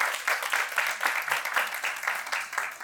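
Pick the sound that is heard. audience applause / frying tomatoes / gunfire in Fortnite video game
audience applause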